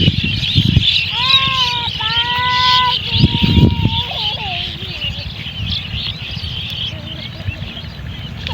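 Birds chirping outdoors at dusk near a mustard field, including mynas, with a series of clear whistled calls close by under steady background noise and some rustling.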